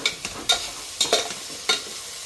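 Onion fries in a pan with cinnamon and bay leaves for pulao, a soft sizzling hiss punctuated by several crisp spatula scrapes as it is stirred.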